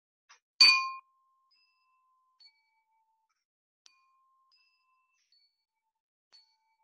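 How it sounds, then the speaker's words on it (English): A water-filled drinking glass is tapped gently, giving one clear bright ring that decays over about half a second, followed by a few faint short clinks in quiet surroundings. "I'm going to be tapping the glasses, and with this I need to make sure I'm doing it really gently and carefully"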